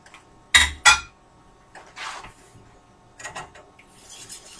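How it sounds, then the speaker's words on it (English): A metal spoon dropped into a kitchen sink lands with two sharp, bright clanks close together, followed by a few softer clinks and rattles as it settles. "I'm going to put this spoon in the sink"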